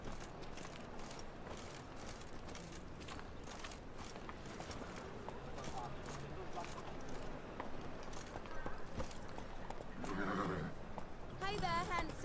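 Roach, the horse in The Witcher 3: Wild Hunt, clip-clopping along with steady hoofbeats and a whinny near the end, set among game ambience and a man's speech.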